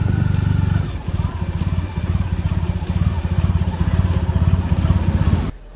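A large motorcycle, either a Harley-Davidson Fat Boy or a Triumph Rocket 3, runs loud and close with a deep, throbbing engine pulse, then cuts off abruptly at the end.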